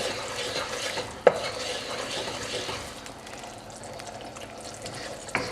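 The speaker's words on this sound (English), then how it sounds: "I just want to stir that round" Red Thai chicken curry is stirred in a pan over medium heat, a soft steady sizzle with scraping strokes and two sharp utensil knocks against the pan.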